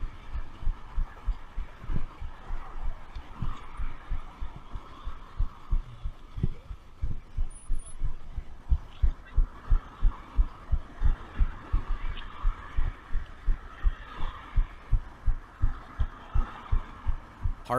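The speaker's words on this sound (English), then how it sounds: "Heart beating like a motherfucker" A heartbeat sound effect thumps in a steady, even double-beat rhythm for the whole stretch, low and prominent, over a faint background murmur.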